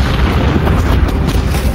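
A World War I artillery barrage on the Somme rumbles with loud, continuous low booms of shell explosions, dense and overlapping without pause for nearly two seconds.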